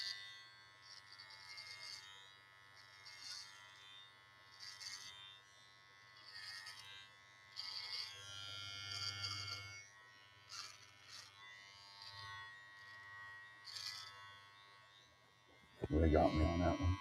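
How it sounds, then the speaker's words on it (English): An electric razor trims a beard in a series of close, faint buzzing bursts separated by pauses, with a louder rustle at the end. "Try to shave a little bit here."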